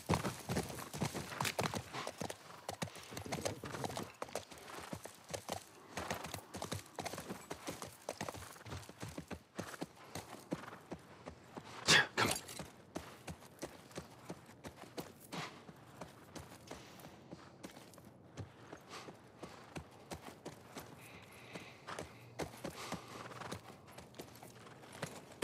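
Horse hooves clip-clop steadily at a walk through the video game The Last of Us Part I, quiet and fairly distant, with scattered louder knocks and crunches across a long stretch and no voices.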